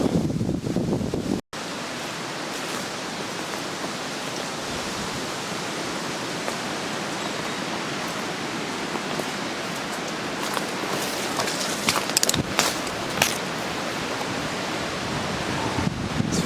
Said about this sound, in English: It's very windy out today.